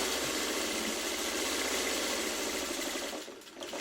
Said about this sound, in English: So, I just backstitch because I don't want it to come apart, right?